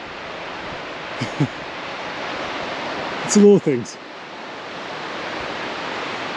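A small waterfall pours into a stream during a mountain day hike, a steady broadband rush filling the whole clip, with a brief spoken remark midway.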